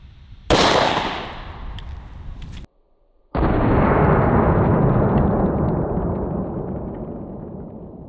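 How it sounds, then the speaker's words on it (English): A .45 pistol shot strikes a car windshield outdoors, with a loud sharp crack and a fading tail, then after a brief gap a second loud blast with a long decaying rumble; no talking. "So our 45 hit the windshield right there, just underneath our 40 Smith & Wesson."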